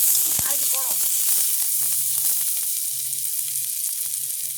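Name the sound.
onion and spices frying in oil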